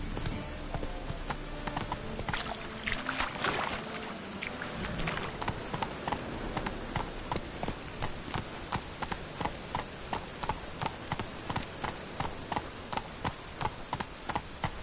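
Roach, a horse in The Witcher 3, gallops in a steady run of hoofbeats, loud and close, with rain-like patter over the first few seconds before the beats settle into an even rhythm.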